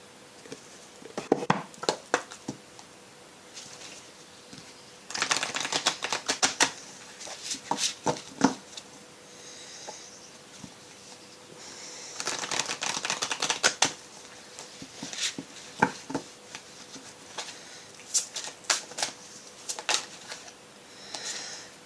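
Oracle cards from the Guérir avec les anges deck are shuffled close up in repeated riffling bursts of papery clicks, separated by short, quieter pauses.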